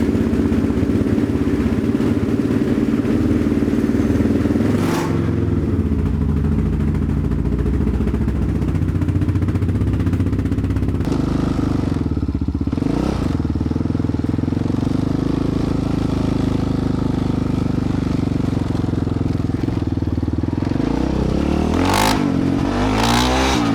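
Engine of a neglected Yamaha Raptor ATV running loud and close, a sustained rough idle with repeated revs rising and falling, plus a few brief clattering bangs along the way.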